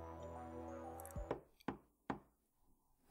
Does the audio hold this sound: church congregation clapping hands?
no